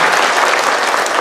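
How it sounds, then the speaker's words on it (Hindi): Audience applause at a spiritual programme hall, a dense, steady wash of many hands clapping loudly throughout, with no voices standing out. "एक बार जोर से आप अपने लिए तालियां बजाइए"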